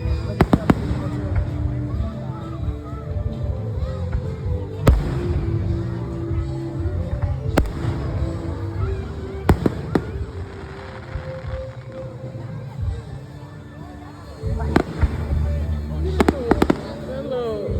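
Fireworks burst over the castle at Magic Kingdom on the 4th of July, with repeated booms and crackles at a distance while a crowd murmurs and people talk nearby.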